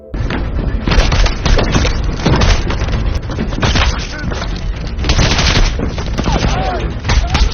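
US soldiers in a war film fire weapons repeatedly, dense bursts of gunshots and machine-gun fire cracking loudly and continuously throughout, with booming impacts and debris.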